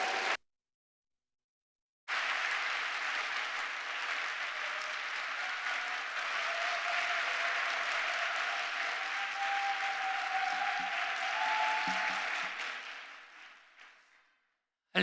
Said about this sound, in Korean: 이제 목사님 나오실 때에 하나님께 영광 돌리고 박수하심으로 맞이하시겠습니다.